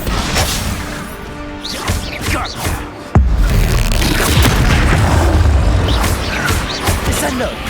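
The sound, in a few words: explosion from an Expulso spell in the video game Hogwarts Legacy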